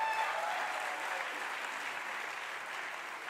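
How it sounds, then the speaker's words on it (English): An audience at a university convocation ceremony gives a sustained round of applause, a steady wash of many hands clapping at moderate volume throughout. "Again, big round of applause."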